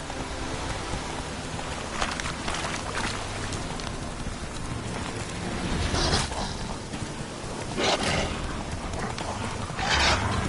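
Roach, Geralt's horse in The Witcher 3, gallops steadily, hoofbeats drumming in a quick, rolling rhythm close by, with periodic louder thuds and a soft background wash.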